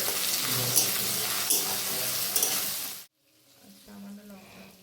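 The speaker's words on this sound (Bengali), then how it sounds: "তার মধ্যে একে একে দিয়ে দেবো নুন, আর তারপরে দিয়ে দেবো টমেটো কুচি, আর দিয়ে অনেকক্ষণ ধরে ভাজতে হবে।" Cauliflower and peas frying in a pan with salt and chopped tomato, giving a loud steady sizzle for about three seconds that cuts off abruptly, leaving quieter kitchen noise.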